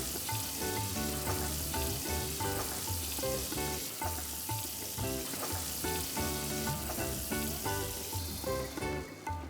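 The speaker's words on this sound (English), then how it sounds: "You wanna get that nice sear, that nice sizzle onto whatever protein it is that you're blackening." Locally caught red grouper sears in a hot cast iron pan for blackening, producing a loud, continuous close-up sizzle with crackling spatter and occasional stirring or scraping, no voices.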